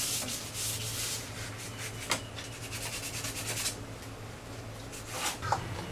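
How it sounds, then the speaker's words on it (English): Sanding the finish coat on an old coffee table by hand: steady, close, rhythmic scratchy rubbing strokes with a few light knocks, over a low background hum. "I can tell by the way it sands that it's not quite as hard as the top"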